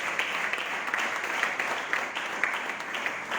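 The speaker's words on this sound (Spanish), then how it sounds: "Denle un aplauso al Rey de Reyes y al Señor de Señores." A church congregation claps at a sermon, sustained even applause with a few sharper individual claps standing out, fairly distant and continuous.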